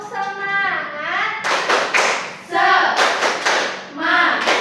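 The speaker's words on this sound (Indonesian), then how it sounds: "Tepuk semangat." A primary-school class in a lesson performs a rhythmic clapping chant, with bursts of claps alternating with children's chanted voices, lively and close, repeated in several short phrases.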